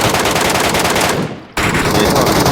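Rapid automatic gunfire in the video game PUBG Mobile Metro Royale, loud dense bursts of shots that stop briefly and then resume at full intensity.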